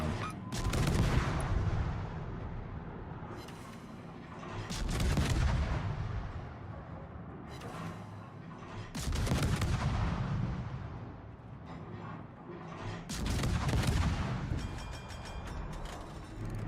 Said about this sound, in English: Oh, he's still shooting me.